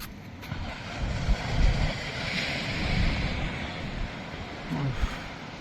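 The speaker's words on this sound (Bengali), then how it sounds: "মানে ঢেউর গর্জনটা শোনো শুধু তোমরা।" Sea waves roar onto the beach at Digha in a continuous low rumble with rising and falling surges, mixed with gusty wind on the microphone.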